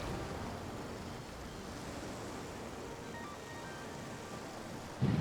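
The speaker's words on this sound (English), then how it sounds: "Oh, it's windy." Steady, broad rushing wind buffets the microphone without pause at a sea cove, with a distant surf-like roar underneath and a sudden louder gust at the very end.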